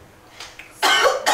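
A person coughs after drawing on a joint and exhaling smoke, a couple of short raspy bursts building to one loud harsh cough near the end, close and without talk.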